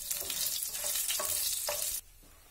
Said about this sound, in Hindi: इनको मैं सुनहरा होने तक भूनूंगी।